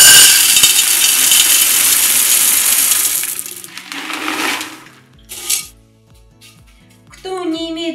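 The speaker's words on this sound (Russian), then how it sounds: "Ну и сразу, наверное, здесь насыплю керамзит, как я уже и сказала." Expanded clay pellets are poured into a flower pot, making a close, loud rattling cascade for a few seconds that thins into scattered clinks, with someone speaking afterward.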